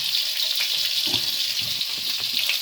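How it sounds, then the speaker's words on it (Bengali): Eggs frying in a pan with turmeric and salt, giving a steady close sizzle with light scraping and stirring clatter throughout, no talk. "ডিমটার সাথে ভালো করে একটু নাড়িয়ে চাড়িয়ে ডিমগুলো একটু ভেজে নিচ্ছি"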